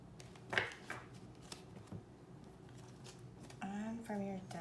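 A tarot deck is shuffled in a few quick riffling bursts and soft card slides, close and fairly quiet, with a voice speaking in between.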